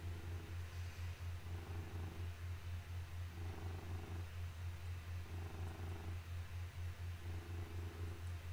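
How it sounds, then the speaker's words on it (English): A pet cat purrs close to the microphone in a quiet room, a soft, steady low rumble with a slow in-and-out breathing rhythm. "you just never stop purring, do you?"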